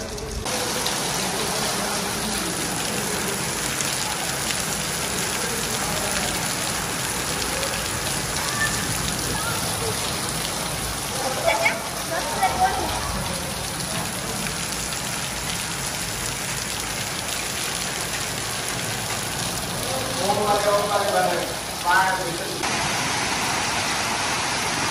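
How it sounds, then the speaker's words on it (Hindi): Heavy rain pours down steadily, a dense continuous roar of drops on surfaces, with a couple of brief faint voices rising over it. "अभी आई है बरसात, तकरीबन 10-15 मिनट हुए हैं बरसात शुरू हो गई है।"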